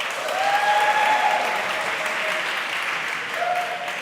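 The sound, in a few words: audience applause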